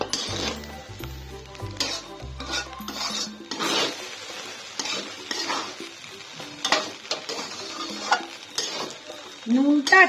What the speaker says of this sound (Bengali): নুনটা আর তেঁতুলটা ভালো করে মিশিয়ে নিচ্ছি।